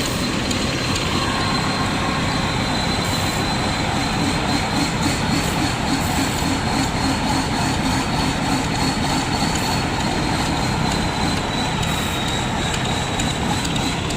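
A combine harvester engine gives a steady, loud drone throughout, a dense mechanical rumble with a constant whine on top and no talking.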